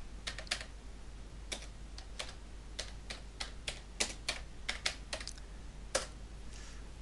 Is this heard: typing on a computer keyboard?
yes